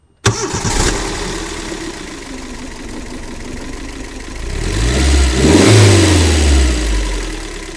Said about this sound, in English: the engine's still running, and that's a Celica igniter running this engine right now